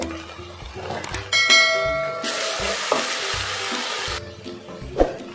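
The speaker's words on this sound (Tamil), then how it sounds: "கொத்தமல்லி, புதினா வதக்கிக்குவோம்" Coriander and mint with turmeric sauté in a pan for chicken biryani, a close, steady sizzle punctuated by stirring scrapes and a couple of bright metallic clinks.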